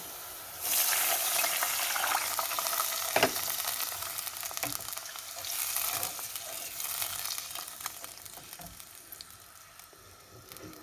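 Lentil and noodle mixture stirred in a sizzling pan, a steady frying crackle with scraping strokes of the spoon and a few sharper knocks against the pan.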